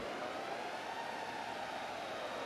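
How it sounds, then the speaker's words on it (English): An alarm siren sounds in the Xenoblade Chronicles video game, a sustained, fairly quiet tone that holds steady without breaks, with no talk. "What does the siren mean?"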